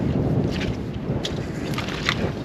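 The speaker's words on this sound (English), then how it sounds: "The wind's really picked up." Strong wind roars steadily across an outdoor hardwood lumber yard, a dense, continuous rush with slight gusting swells and no voices.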